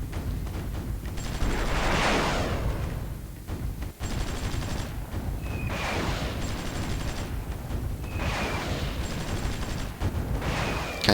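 Continuous bombardment in the Supreme Ruler 2020 war game set in Vietnam: heavy, rumbling blasts swell and fade in repeated waves, with crackling gunfire and sharp whistling streaks between them, loud and unbroken by speech.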